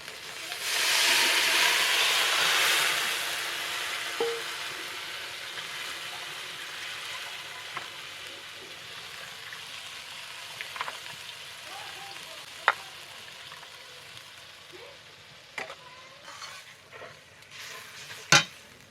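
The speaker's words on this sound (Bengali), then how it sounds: "এবার এর উপরেই আমি নারকেলের দুধটা দিয়ে দেব ছেঁকে দেবো" Coconut milk is poured over fried masala in a pan, bringing a loud hissing sizzle at first that settles into a quieter bubbling fry with scattered sharp taps and clinks.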